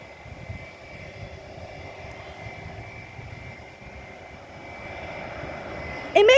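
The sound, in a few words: airplane engines loud while landing at airport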